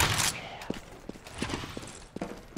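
Gunfire in the video game CS:GO, a handful of short sharp shots spaced irregularly over a faint background, fairly quiet overall with no speech.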